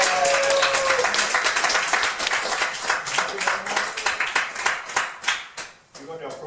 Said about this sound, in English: Let's give Angela another big round of applause